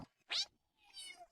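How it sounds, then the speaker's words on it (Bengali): A cat meows twice, a loud, sharp meow followed by a softer, longer one, close and clear against silence. "মিউ শব্দে বিড়াল ডাকে"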